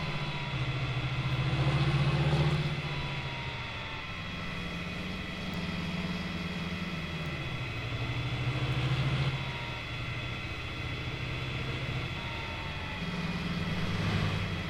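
Farm tractor idling in a farming simulator game, a steady low diesel rumble with a wavering drone that rises and dips gently throughout, no voices over it.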